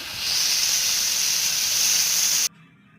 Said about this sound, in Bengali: কড়াইতে তেল দিলাম, দিয়ে এবার মাছগুলো ছেড়ে দিচ্ছি আস্তে আস্তে